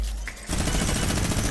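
Rapid video game gunfire from Fortnite Zone Wars, a dense, loud burst of shots that starts abruptly partway in and keeps rattling steadily to the end, with no talk over it.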